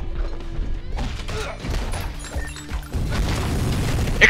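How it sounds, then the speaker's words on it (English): A series of heavy booms and crashing impacts from video game explosions, loud and cluttered, piling up in quick succession. "Explosions!"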